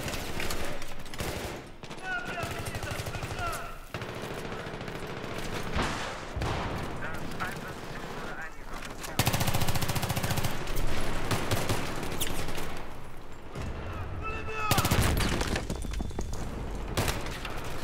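Battlefield 3 gunfire in close-quarters combat at Ziba Tower: repeated loud bursts of shots and automatic fire over the whole stretch, with a heavier barrage near the end and a voice talking at times.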